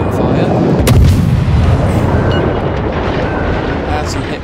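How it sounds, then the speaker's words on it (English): Heavy naval gunfire in World of Warships, single ship's guns booming loud and close with a sharp report near the start and a continuous low rumbling roar that carries on underneath throughout. "We're only firing single shots now, but still causing a lot of damage to this guy."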